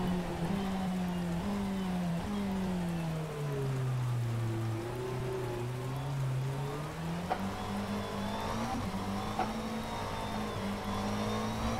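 Rain hisses steadily across the track in the rFactor 2 racing game as a GT3 car's engine drones and shifts pitch, rising and falling through corners, with the wet patter running underneath throughout.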